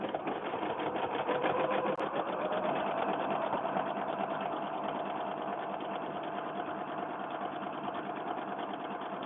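A sewing machine stitches fabric for a homemade fabric book, running continuously at a steady fast whir with a rapid mechanical needle rhythm, close and fairly loud, with no talking.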